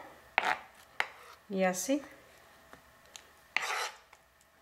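Roasted peppers are cut and peeled with a knife, making a few quiet, separate taps and scrapes on a cutting board; a voice speaks briefly in the middle.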